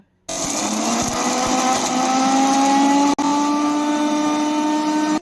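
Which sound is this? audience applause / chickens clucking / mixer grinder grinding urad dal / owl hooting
mixer grinder grinding urad dal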